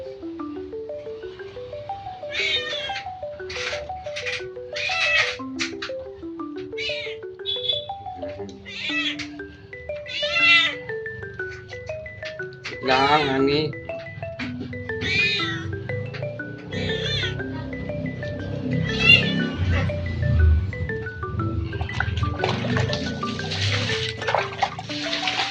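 A cat meows repeatedly in short, varied cries, close by, mixed with splashing and a voice speaking softly.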